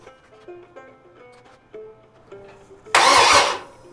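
A 350 Chevy small-block engine cranks and fires into a loud, rough roar for about half a second after soft clicking and tinkering sounds.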